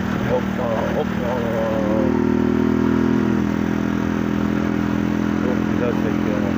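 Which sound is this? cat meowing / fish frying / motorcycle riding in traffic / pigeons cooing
motorcycle riding in traffic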